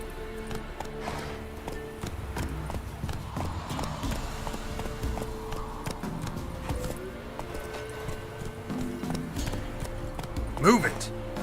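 Roach, a horse in The Witcher 3: Wild Hunt, gallops with rapid, steady hoof clip-clops throughout, a brief whinny-like sound near the end, and a voice talking over it.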